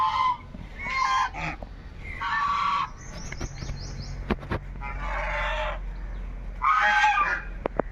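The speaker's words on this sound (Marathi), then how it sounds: "बदक आहेत." Ducks near the Statue of Unity give loud, repeated honking quacks in short bursts, fairly close, with scattered background noise between calls.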